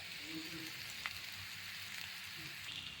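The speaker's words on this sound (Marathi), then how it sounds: "भाजी चांगली खरपूस अशी वाफवू देऊ." Soft, steady sizzling of potatoes frying in a pan, a faint continuous crackle with a single light clink partway through.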